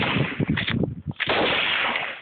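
Several sharp, loud AR-15 rifle shots crack in quick succession outdoors, each burst followed by broadband ringing noise that fills the short stretch, with no talking.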